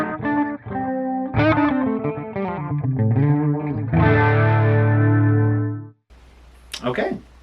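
Distorted, effects-laden electric guitar through a Flatsons KMF-1 multi-effects pedal set to a Matchless 212 cabinet simulation, strumming chords for about six seconds, loud and close, then brief speech near the end.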